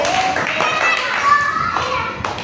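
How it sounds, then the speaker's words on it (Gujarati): A primary school class of young children claps together in a few sharp, quick strokes, with the children's voices chattering right over the claps. "ચલો 3 તાળી પાડો આતિફા બેન માટે."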